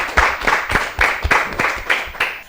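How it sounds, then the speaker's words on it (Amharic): Audience applause for a correct answer on an Ethiopian children's TV quiz show, a brief burst of rhythmic clapping from a small group, fairly loud and close, with no talk. "እስቲ አጨብጭቡለት።"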